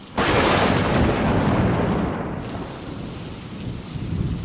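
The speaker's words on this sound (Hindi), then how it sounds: "अचानक शुरू हुई तूफानी बरसात ठंड को और भी तेज करती जा रही थी।" A stormy downpour hisses heavily, with a deep rumble of thunder rolling in at the start and fading into the steady rain. The sound is loud and continuous, with no voices.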